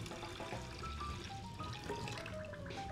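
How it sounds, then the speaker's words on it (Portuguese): Two liters of whole milk poured into a tall cooking pot, a soft, continuous liquid trickle and splash, faint and close, with no talking. "Agora eu vou acrescentar 2 litros de leite integral"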